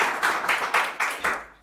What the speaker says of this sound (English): A round of applause for his comment, please.